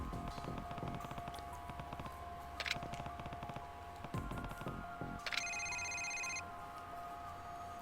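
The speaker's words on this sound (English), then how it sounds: "Quick, answer the dead man's cell phone." A dead man's cell phone in the video game Yakuza Kiwami rings with a bright electronic ringtone trill, over faint background ambience and scattered clicks, with no talking.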